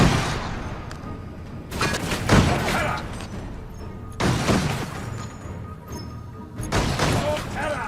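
Gunfire in Space Hulk: Tactics comes in three loud, spaced bursts, each a rapid crackling volley that trails off before the next one hits.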